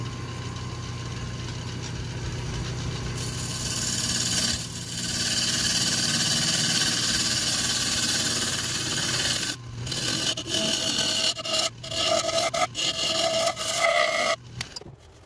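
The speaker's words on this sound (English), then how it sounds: "You can hear that high pitch as I'm turning towards the rim" On a wood lathe, a thin, bone-dry segmented bowl of maple, mahogany and walnut is turned: a steady motor hum under a harsh, continuous scraping of the tool, then choppy, intermittent cuts with a thin ringing tone toward the end.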